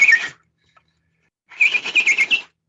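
A voice imitates a whistling chirp said to have come from a beach at night, giving one short high chirp, a pause of silence, then a longer warbling run of bright chirping whistles.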